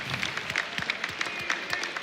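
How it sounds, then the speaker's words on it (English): Applause from a small group at an esports broadcast desk, a steady patter of hand claps with sharp individual slaps, fairly close and continuous. "We're clapping as well"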